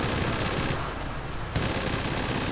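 Machine gun fire in the video game GTA V Online, a continuous rapid rattle of automatic shots, loud and close, with a brief dip midway before the burst resumes.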